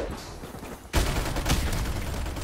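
MP44 rifle gunfire in Modern Warfare Remastered erupts as a loud, rapid burst of shots after a quieter stretch of game ambience, continuing dense and sustained to the end.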